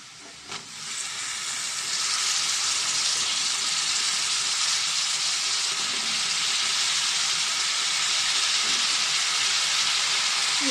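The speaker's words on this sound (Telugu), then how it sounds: "ఇప్పుడు వంకాయ ముక్కలు వేసుకుందామండి." Eggplant pieces added to softened onions in a hot pan give a loud continuous frying hiss that swells after a brief clatter and holds steady.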